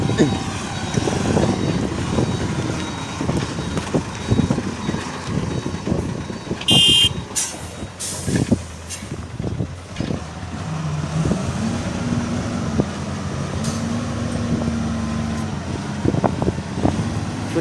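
A Toyota Victor 344 car engine idles and rumbles steadily nearby with a low, ordinary stock exhaust note, a brief high beep cutting in partway through.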